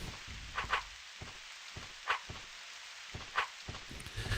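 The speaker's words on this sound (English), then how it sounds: "I love sleeping to rain noises." Soft rain patters steadily in the game Asheron's Call, faint and even, with a few brief louder taps and thumps breaking through.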